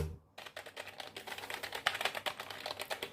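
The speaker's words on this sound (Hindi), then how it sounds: "मैं यहाँ कीबोर्ड से जो भी दबा रहा हूँ वो यहाँ पर टाइप हो रहा है" A keyboard connected to a mobile phone being typed on, giving a rapid, steady run of close key clicks after a brief silent start, with no voices.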